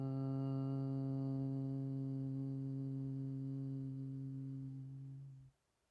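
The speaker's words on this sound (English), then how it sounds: "Go on ahead and begin that hum." A sustained group hum, during a guided listening meditation, holds one steady rich drone for about five seconds, then fades and stops into near silence.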